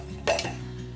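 A Russell Hobbs 2470 hand blender chopper attachment is fitted into place with a single sharp plastic clack, close and brief against a quiet room.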